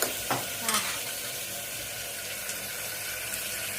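Ivy gourd (tindora) and potato pieces hit hot oil tempered with mustard seeds, cumin, fenugreek and turmeric, giving a brief burst of sizzle and stirring that settles into a steady, moderately loud frying hiss.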